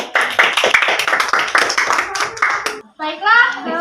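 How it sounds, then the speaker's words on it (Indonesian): A class of children clapping hands together in a classroom, a loud burst of rapid, uneven claps for nearly three seconds before children's voices chatter briefly. "Tepuk tangan untuk kita semua."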